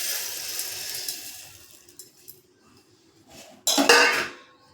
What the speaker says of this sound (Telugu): ఇప్పుడు జొన్నలు కూడా వేసుకొని పట్టుకుందాం.